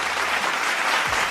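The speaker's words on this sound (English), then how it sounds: "A round of applause." A dense wash of crowd applause plays as a short sound effect: many hands clapping at once, loud and continuous, with no single claps standing out.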